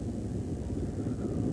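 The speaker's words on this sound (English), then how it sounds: "Only the sound of emergency helicopters in the distance." Emergency helicopters circle far off over a flooded Northern California landscape in February 1986, a steady low rumbling drone that holds evenly throughout with no voices.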